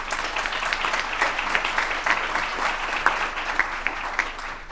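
Audience applause at a summit event, a steady dense patter of many hands clapping throughout, fairly close and sustained with no voices over it.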